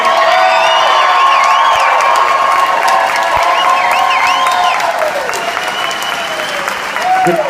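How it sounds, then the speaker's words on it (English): Sustained audience applause with cheers and whoops honouring an Afghanistan war veteran at a country club event, a loud, dense clapping wash that continues steadily for the whole stretch, with voices rising over it. "Give him a round of applause"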